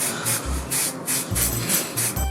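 Warhammer miniatures being spray painted: repeated short hissing bursts from a spray can in quick succession, close and fairly loud, with no speech.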